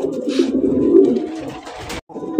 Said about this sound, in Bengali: কবুতর তো দাদা সেই ডাকে ভাই